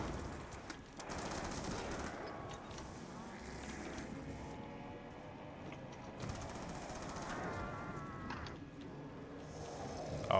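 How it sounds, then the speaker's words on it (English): Rapid automatic gunfire from Black Ops 2 Zombies keeps going for the whole stretch, loud and dense, and players talk over it. "Shoot him, Matt!"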